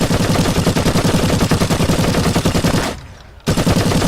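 Rapid automatic gunfire from a video game rattles loud and close in a continuous stream, breaks off for about half a second, then resumes.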